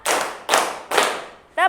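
A class claps a counted rhythm pattern in unison, three sharp group claps evenly spaced and ringing briefly, with a voice starting right at the end.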